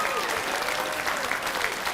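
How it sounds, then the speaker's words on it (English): An audience at an alumni awards ceremony applauds the evening's honorees. The clapping is dense and sustained, from a full room of many hands, and stays steady and fairly loud from start to finish. "Let's give all of our honorees a round of applause."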